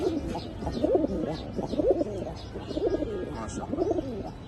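An old-generation chila breed pigeon pair coos repeatedly and close, rolling low phrases recurring in a steady rhythm about once a second, with faint chirps above and no talk.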